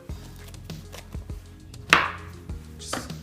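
Mushrooms are chopped with a knife on a board for a Thai coconut curry soup, with a series of close, sharp knocks at an uneven rhythm and one louder strike, no talk.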